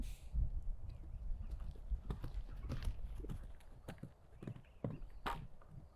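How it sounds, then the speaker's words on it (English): Horse hooves thudding in an arena during jump practice as the horse canters toward a fence, a steady run of moderately close clip-clop beats with faint background noise. "This will be Diego's first jump of the day with this horse"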